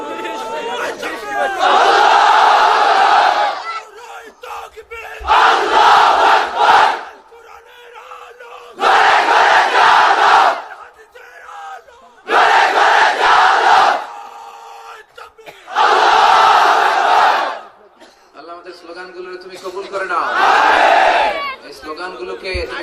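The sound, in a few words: crowd chanting takbir slogans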